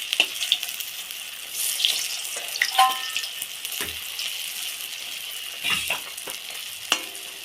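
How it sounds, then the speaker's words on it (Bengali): Himche leaf fritters (bora) frying in a pan, with a bubbling sizzle broken by scrapes and clinks as they are turned, heard close with no voices. "এক পাশটা ভাজা হয়ে গেছে, আর এক পাশটা উল্টে দেবো"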